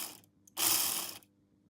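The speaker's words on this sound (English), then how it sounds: "let's see if we can get the motor running just by putting some power directly to it." A small motor from a Piko Škoda E499 HO scale model locomotive whirs under direct power, a brief close mechanical buzz lasting about half a second, with faint clicks before and after.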